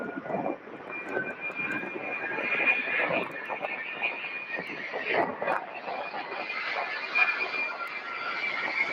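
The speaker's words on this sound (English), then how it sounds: "Airbus A300 rolling at 5662 to Kansas City." An Airbus A300 jet bound for Kansas City rolls for takeoff at Louisville airport, its engine roar steady and broad at moderate distance, with a faint whine layered on top and people talking over it.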